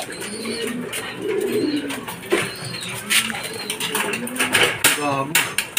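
Several racing pigeons landing at a loft during a fun race arrival, with coos and soft wing patter close by amid a busy mix of shouting and talking voices throughout.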